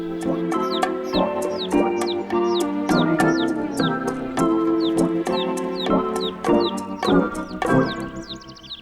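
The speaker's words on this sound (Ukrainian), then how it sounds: "Ось ось оці от курчата, про яких бабця й говорила." Many small chicks cheep rapidly in high, overlapping peeps close by, with clucking from a hen underneath.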